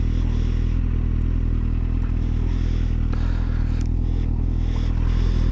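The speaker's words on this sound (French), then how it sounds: "Je vais vous faire écouter un peu la sonorité de cette moto." Kawasaki Z750R motorcycle engine running steadily nearby, a loud continuous low rumble with dense harmonic throb, holding at a constant idle-to-moderate pace for the whole stretch with no talk over it.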